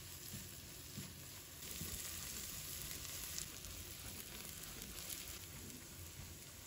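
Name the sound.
stir-frying pork belly with scallion, ginger and garlic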